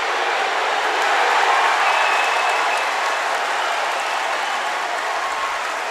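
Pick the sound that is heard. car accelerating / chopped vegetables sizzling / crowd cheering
crowd cheering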